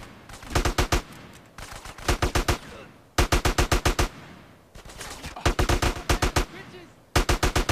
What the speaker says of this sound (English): Your leader is taking fire.